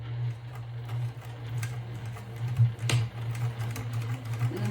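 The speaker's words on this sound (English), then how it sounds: "So let's go to the sewing machine." A sewing machine stitches a bag with a steady low mechanical hum and rapid ticking, continuous and close, sometimes with a faint click.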